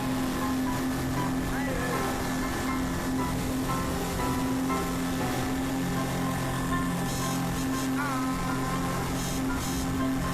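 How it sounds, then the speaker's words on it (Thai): A steady, loud droning boat engine hums without pause on open sea as the boat sets out from Koh Khai toward Koh Lipe, with wind and water wash layered over it. "เราขึ้นเรือเราจะไปหลีกเป๊ะกัน"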